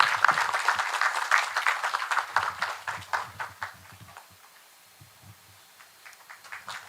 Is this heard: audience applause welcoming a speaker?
yes